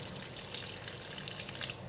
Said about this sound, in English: I'm going to add in a little bit of water,